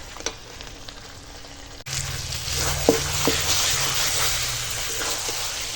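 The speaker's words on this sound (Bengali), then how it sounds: "চলো মাংসটা সুন্দর করে কষাই" Dry chicken pieces are stir-fried with ground spice paste in a pan over a wood fire, a loud steady sizzle that jumps up suddenly partway through, with occasional scraping stirs and no talk.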